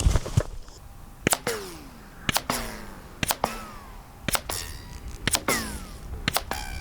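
Subsonic 300 Blackout rifle shots fired outdoors, six sharp cracks spaced roughly a second apart, each followed by a brief echoing tail across the range.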